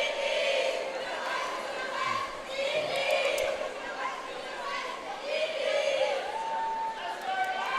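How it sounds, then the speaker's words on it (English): Spectators at a Roller Derby World Cup match between West Indies and a Chinese national team chant in rising, rhythmic waves over a steady, somewhat distant crowd roar. "Some chants from the crowd there."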